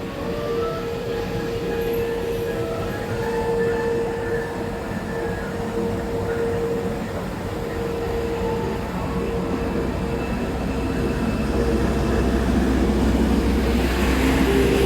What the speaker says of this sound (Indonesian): ini lokomotif KLB CC 206 1385